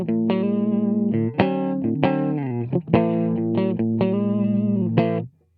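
Distorted electric guitar through a cabinet simulator pedal plays sustained chords and short riffs with a boxy amp-like tone, loud and steady with brief pauses between phrases.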